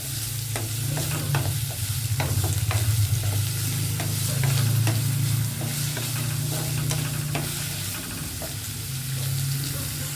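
Mustard seeds and onion sizzle in oil for a tempering, a steady close crackle with frequent scraping stir strokes over a low hum, continuous with no talk.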